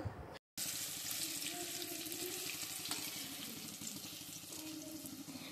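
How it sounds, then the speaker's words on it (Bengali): Vegetarian lentil fritters (bora) fry in oil in a home kitchen. A steady, close hiss and sizzle carries on without a break, with no talking. "আমার প্রায় বড়া ভাজা হয়েই এসেছে, এগুলি ভাজলে আরেকবার দেব"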